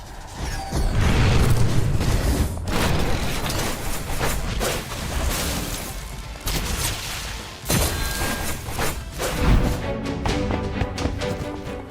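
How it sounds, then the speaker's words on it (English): Repeated booming blasts and crashing impacts from a game, dense and loud, with rapid bursts layered over a constant roar. "lets you trigger a massive explosion that deals heavy damage and heals you"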